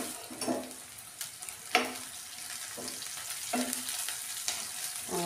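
Chopped onions fry in a pan while a spoon stirs them, a soft steady sizzle broken by regular scraping clatters roughly every second, close and quiet with no talking.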